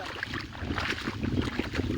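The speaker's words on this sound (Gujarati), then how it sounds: "થોડોક પવન છે એટલે જરાક કેવરાવતું છે અવાજ આવતો છે પવનની" Wind blowing steadily across an open farm field with sorghum crops, a continuous broad rushing gust noise with fluctuating intensity, moderately loud and close to the microphone, with no talking.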